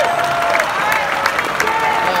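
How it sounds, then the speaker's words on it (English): Crowd at an outdoor show at the Greek Theater clapping and cheering steadily throughout, a dense continuous wash of applause with scattered whoops. "Big round of applause for Danny."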